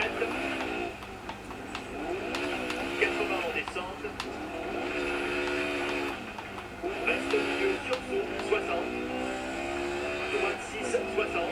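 A rally car engine in the racing game Dirt 4 drones steadily, its pitch rising and falling as the car revs through gears, fairly faint beneath someone talking over the gameplay.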